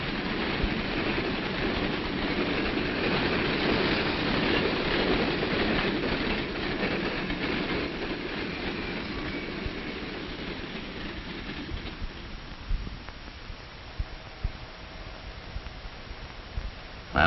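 A train rumbles along the track, wheels clattering steadily, then the noise thins out as it moves off, leaving scattered clicks and clanks.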